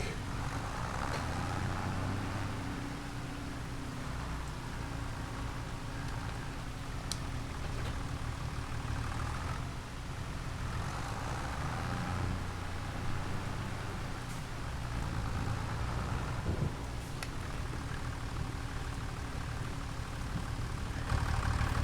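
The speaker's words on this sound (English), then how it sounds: "Let's go get the tractor." A farm tractor engine idling on a homestead, a faint, steady low rumble that drones on for over twenty seconds with slight swells and no talk.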